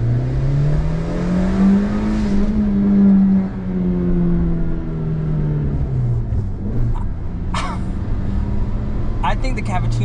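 A stock Suzuki Wagon R Wide's small engine revs up and down close by, its pitch rising and falling smoothly, with a few brief clicks and rattles toward the end.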